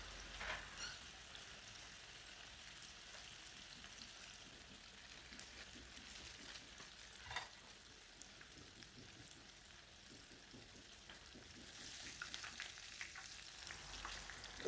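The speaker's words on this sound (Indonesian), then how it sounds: "Dan lanjut saya mau goreng tahu" Two small pieces of tofu frying in oil as a side for fried tilapia in a Sundanese home meal, giving a steady, close, continuous sizzle and crackle with occasional sharper pops throughout.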